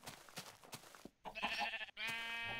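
A few bleating sheep calls in a game, short and nasal, with brief gaps of silence between them.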